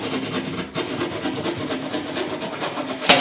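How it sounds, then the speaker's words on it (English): A hand saw cutting through old drywall during a bathroom demolition, a steady rasping scrape of back-and-forth strokes, close and continuous, ending in a sharp knock. "you can get up there and saw through it."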